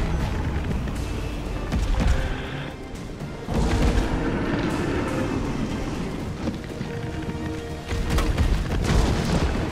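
Incendiary grenade going off in Resident Evil 3, with a heavy boom followed by a roaring, crackling burn that flares again twice, loud and close, with no one talking.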